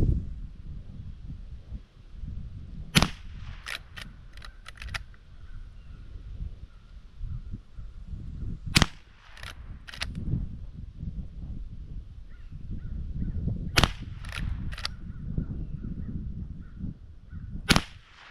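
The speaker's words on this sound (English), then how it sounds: "I'm going to go ahead and shoot that target that I've already shot" Marlin Golden 39A .22 rifle fired outdoors at targets, sharp cracks in quick clusters of three to five shots separated by pauses, loud over steady wind and ambient rumble.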